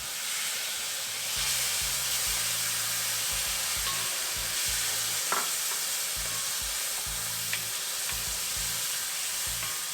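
Chopped tomatoes and curry leaves sautéing in a pan, a continuous bright sizzle and hiss with repeated low scraping stirs at a steady rhythm, close and moderately loud.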